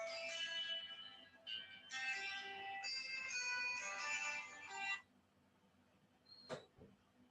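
A phone rings with an incoming call, playing a bright electronic melodic ringtone in bursts for about five seconds. It then stops, followed by a quiet room and a single faint click.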